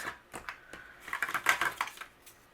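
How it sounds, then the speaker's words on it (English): Quick crisp snips and clicks in a short irregular burst, like scissors cutting through stiff card, close by with no voices. "I'm going to use my scissors and I'm going to trim these"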